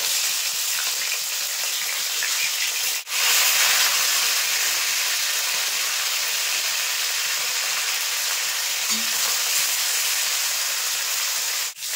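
Fish pieces frying in mustard oil in a wok keep up a dense, even hiss and crackle, broken by a single sharp knock partway through as a piece is turned over.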